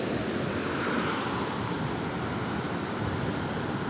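Sea waves wash up on Pondicherry beach in a continuous broad rush of surf, loud and close, with heavy wind buffeting the microphone throughout.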